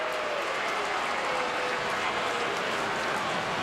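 Crowd at a 2011 Red Sox spring training baseball game reacting to an umpire's call, a dense steady wash of murmuring and booing from a distant audience, no clear single voice.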